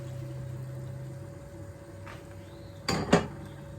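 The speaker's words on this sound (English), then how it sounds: "give that a stir. Mix it all round and round" Fish stock is stirred into a catfish stew in a pot: a quiet background hum, then a couple of brief metallic clanks close by near the end.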